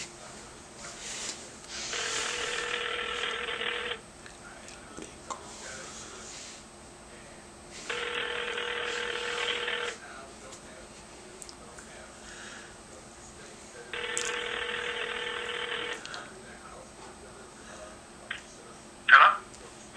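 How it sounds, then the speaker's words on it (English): An outgoing phone call on speakerphone rings three times in evenly spaced two-second bursts with quiet gaps between them, followed by a short noisy handling sound at the end. "I'm going to hit the call button and turn on the speakerphone."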